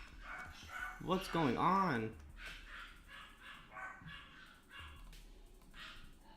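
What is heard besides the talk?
dogs barking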